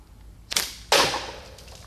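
A slingshot made from old grapevine wood fires a 22 mm lead ball, heard as two sharp, close snaps about half a second apart, the second louder and fading with a short ring.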